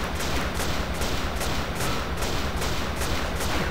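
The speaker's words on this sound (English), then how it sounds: "And now just start shooting." Rapid, continuous gunfire in the side-scrolling combat game Cortex Command, a loud steady stream of evenly spaced shots with no voices over it.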